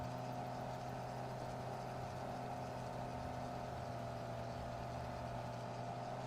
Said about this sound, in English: Oh wow, what a cool tractor.